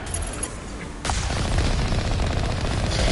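A missile launches from the Mako vehicle in a sci-fi video game, a sudden loud blast that gives way to a sustained roaring rush lasting a couple of seconds.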